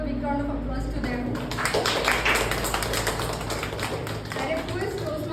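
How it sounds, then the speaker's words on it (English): Audience applause for two new Toastmasters members at a club meeting, a steady wash of clapping that swells midway and carries on under the room's murmur of talk. "Can we all give a big round of applause to them?"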